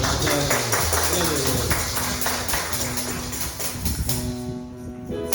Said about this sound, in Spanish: Fuertes palmas al Señor